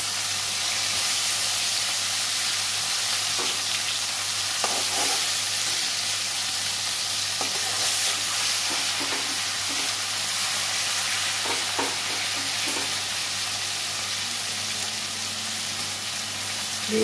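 Kajli fish frying lightly with tomato in a pan, making a constant loud hiss and sizzle throughout with occasional faint utensil movements.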